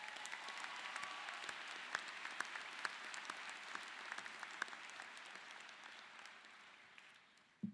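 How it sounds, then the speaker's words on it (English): Applause from the audience at a fall college commencement ceremony for a speaker, a soft, distant wash of many hands clapping that holds steady and slowly fades, with a few sharper claps standing out. "One more round of applause."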